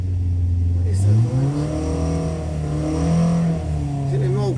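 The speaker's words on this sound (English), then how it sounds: "I think my mole grips are making a funny vibration noise on the exhaust" Mole grips clamped to the exhaust of a car with a 998 head bored out to 1120cc rattle during a dyno run, a steady engine drone that rises and falls in pitch with a buzzing vibration over it.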